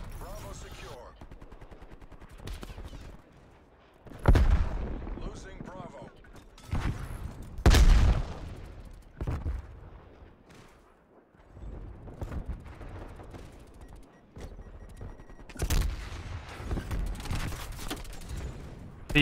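Heavy gunfire from Call of Duty: Black Ops Cold War, including an XM4 rifle, with repeated loud bursts and bangs spread across the clip over constant game noise.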